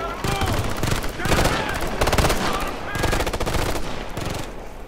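Rapid automatic gunfire from the video game Ghost Recon Future Soldier, with bursts of loud rattling shots that carry on almost nonstop and stay close.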